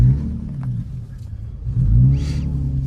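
Nissan S-chassis car with an SR20DET engine, warmed up and idling with a deep rumble that swells into a rev near the end, heard up close with no talk.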